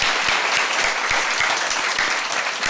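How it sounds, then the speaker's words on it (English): Steady, dense audience applause fills a live public debate event about dogs in Newcastle, many hands clapping loudly and close with no gaps. "Can you keep your round of applause coming"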